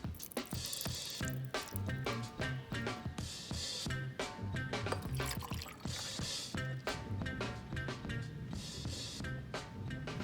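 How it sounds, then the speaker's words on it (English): Water poured into a crucible holding molten zinc and sodium, giving a busy run of crackling, popping and sizzling bursts that keep going close up without a pause. "Now we're gonna pour the water directly into the crucible. See if there's any gas evolution."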